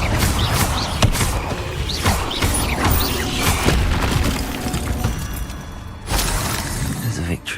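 Incendio fire spell cast in the Hogwarts video game, a loud roaring burst of flame with crackling and booming impacts that rumbles on for several seconds amid heavy combat noise.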